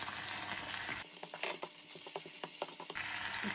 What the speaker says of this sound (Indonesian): Lalu masak sampai kuahnya mengental.